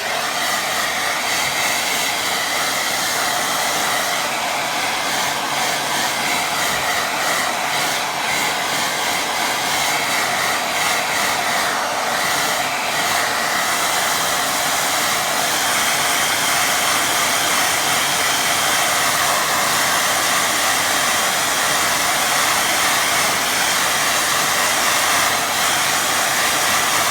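A hair dryer blows steadily on a river watercolour painting, a loud continuous broadband whoosh that holds unbroken throughout with slight wavering, no voices over it.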